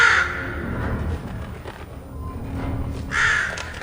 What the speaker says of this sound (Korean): 맞아 여기에서 까마귀 친구가 나오죠 아주 간지나는 친구예요